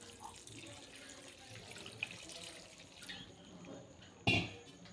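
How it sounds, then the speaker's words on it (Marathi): Cold water runs and splashes steadily at a low level over cooked noodles, ending with a brief louder clatter near the close. "त्याच्यावर थंड पाणी टाकून घेऊयात"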